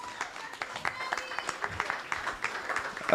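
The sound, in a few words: audience applauding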